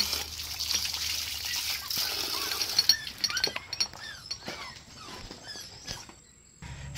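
Three dogs, a grown dog and two puppies, being bathed, with water trickling and splashing, small clinks of a container and scattered yelps and whines from the dogs, busy at first and quieter toward the end.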